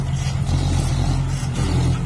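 MU4902 bulldozer engine pushing a dirt pile at a work site, a loud, steady low diesel drone with rough clattering texture, close by and continuous.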